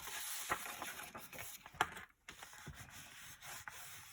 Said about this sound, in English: Burnish that down real good.